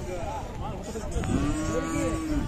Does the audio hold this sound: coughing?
no